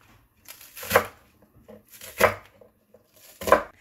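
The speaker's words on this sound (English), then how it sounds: "I want to chop it" Knife strokes chopping green seasoning herbs, including chadon beni, on a board before blending: three distinct bursts of rapid cuts, spaced about a second apart, fairly close with quiet gaps between.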